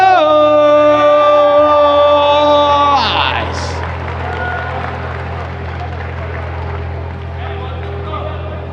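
A long sustained call gives way to a broad crowd roar at a 3x3 basketball final in Singapore, with cheering and scattered clapping continuing steadily at a moderate distance.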